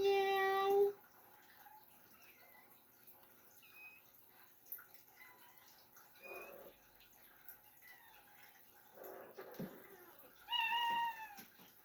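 A cat meows several times, some calls long and clear, others short and faint, spread across the clip with quiet stretches between them.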